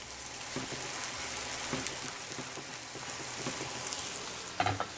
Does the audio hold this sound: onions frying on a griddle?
yes